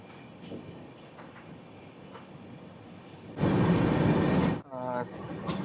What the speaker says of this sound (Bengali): মুড়ি থেকে কিন্তু আমাদের ট্রেন ছেড়ে দিয়েছে